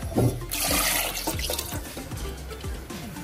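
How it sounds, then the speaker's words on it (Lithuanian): Water gushes and splashes into a pot of Easter eggs being dyed, a continuous pour with gurgling, close by. "užpilam vandenuko"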